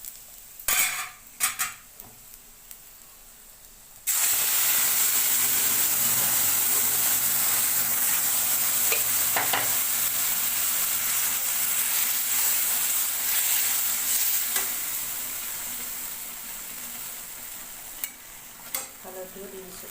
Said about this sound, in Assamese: এতিয়া দাইলখিনি মই দি দিম।